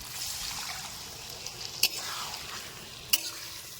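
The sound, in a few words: water added to sizzling cauliflower roast in pan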